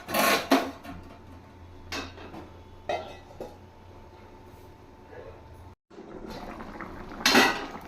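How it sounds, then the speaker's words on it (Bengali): A lid goes onto a pot of fish roe curry with potatoes, giving several sharp metallic clanks and clatters close by over a low background hum, with a brief silence near the end. "মাছের ডিমটা দিয়ে আবার একটু ঢাকা দিয়ে দেবো।"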